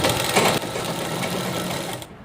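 A sewing machine stitches pleats into the bottom of a chudidhar in one close, continuous whirring run that stops abruptly near the end.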